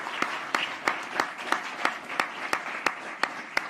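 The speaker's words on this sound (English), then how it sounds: "Please have a round of applause for Tim" Audience applause at the Windsor Shad Derby gala, heard as a thin, rhythmic run of separate claps spaced about a third of a second apart, more like a few people clapping in unison than a full ovation.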